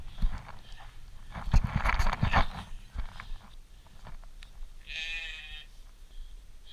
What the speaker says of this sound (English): Funny thing about sheep is they act like they've never been fed in their lives.